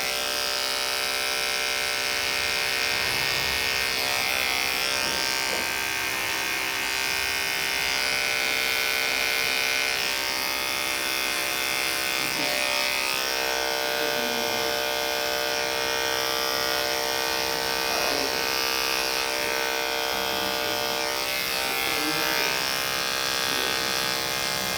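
Electric hair clippers fitted with a detachable OA blade buzz steadily at close range while cutting a guideline in a haircut, a loud continuous high whine with slight shifts as the blade moves through hair.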